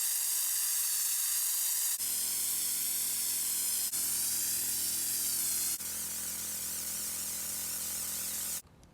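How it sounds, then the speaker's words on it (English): A loud, continuous aerosol spray of bed liner hisses up close onto plywood van flooring in several long passes with brief breaks between them, then cuts off abruptly. "spray the bottom of this so it creates some kind of moisture barrier"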